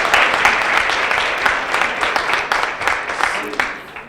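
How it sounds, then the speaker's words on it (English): Audience at a women-in-leadership talk applauding, a loud sustained wash of clapping filling the room for several seconds. "Give yourselves a round of applause for that."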